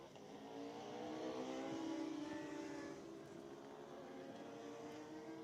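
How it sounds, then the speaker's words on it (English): Racing motorcycles, including a Ducati superbike, roar past on a track at a club race meeting, a steady loud engine drone swelling and easing as the bikes go by, with no talk over it. "So there's Heath Boddicker 167 on the Ducati."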